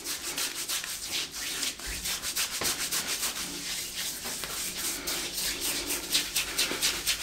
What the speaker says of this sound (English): Wet your hands and then just rub it in.